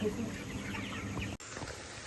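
Chickens cluck and murmur softly throughout, a continuous flock chatter at moderate distance with a brief dropout partway through.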